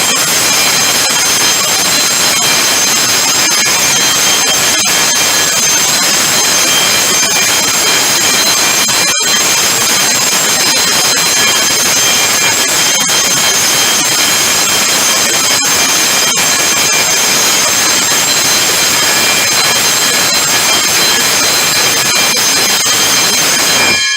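Water pump running in a pump room, with an alarm bell ringing over it as the pump starts; a loud, steady mechanical roar with a constant high tonal whine, occasional sharp clicks, and no talking.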